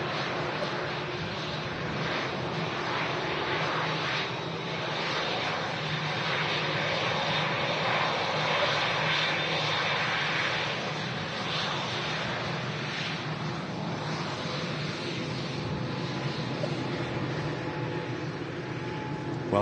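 A TUI Boeing Dreamliner arriving at Manchester Airport from Newcastle, its jet engines producing a loud, steady broadband roar that swells and holds for about twenty seconds, with no voices over it.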